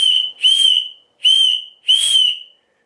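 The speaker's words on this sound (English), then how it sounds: "a whistle test" Whistle on a Victorinox Huntsman Lite emergency tool blown in three loud, close, shrill blasts, each about half a second long, separated by short silences.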